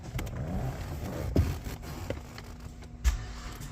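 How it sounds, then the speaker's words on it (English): A Cadillac CTS engine cranks and turns over, a rough mid-pitched rumble with a couple of louder thumps, close by inside the car, with no voices. "I think I might have to start the car."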